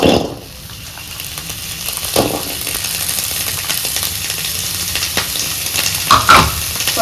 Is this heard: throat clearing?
no